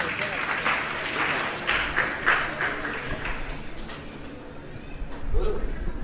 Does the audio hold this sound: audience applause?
yes